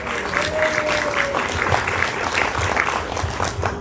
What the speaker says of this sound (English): can we give some love and a round of applause for our venue